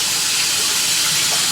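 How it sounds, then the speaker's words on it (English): Running tap water rinsing soap off hands after handling ball python eggs, a steady, loud splashing hiss of water streaming over skin, close and continuous with no talk. "So just once again, double, triple rinse it. Make sure you got all that soap off."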